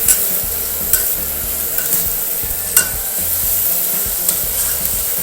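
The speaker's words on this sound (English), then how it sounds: "I sear my prawns first." Prawns sear in a hot pan for spaghetti gamberi, a loud steady sizzle with occasional sharp clicks and scrapes as they are moved around, with no voices.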